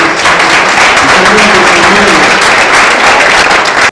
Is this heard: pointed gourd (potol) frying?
no